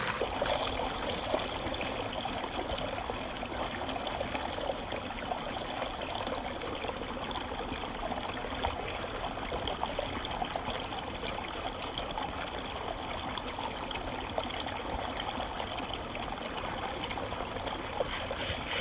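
Water rushes steadily through a hobby mining sluice as rocks are fed in, a continuous dense trickling and splashing flow that stays close and even throughout with no talk.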